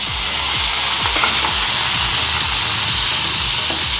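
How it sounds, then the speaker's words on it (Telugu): Washed prawns hit a hot pan for a Nellore-style prawn fry, setting off a loud, dense, close-up sizzle with spattering crackles and quick pops that holds steady throughout. "ముందుగా కడిగి పెట్టుకొని ఆయించి పెట్టుకున్న రొయ్యలు వేస్తున్నాను చూడండి"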